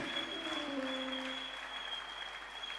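A church congregation applauds and cheers for Jesus during a sermon, a dense sustained wash of clapping filling the room at steady loudness, with a faint high tone running through it.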